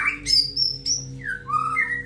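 A white-rumped shama (murai batu) sings alone in a series of clear, bright whistled phrases and chirps, close and loud, shifting pitch from note to note with short gaps between them.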